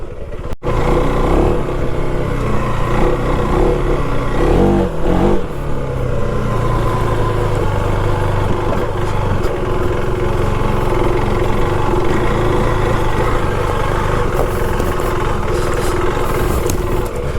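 A 390cc adventure motorcycle engine fitted with a quick shifter runs steadily and loudly up close, a continuous droning hum with a brief rev change early on and no talking.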